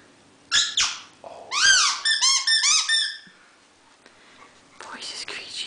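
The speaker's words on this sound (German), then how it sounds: "Miki, wo ist das Quietschi?" A squeaky toy squeaks close by in a burst of short, rapid squeaks followed by a few more, while a person talks softly in between.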